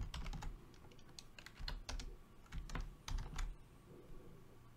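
Rapid bursts of computer keyboard typing while code is written, close and clear, the keys clattering in quick uneven runs with brief pauses.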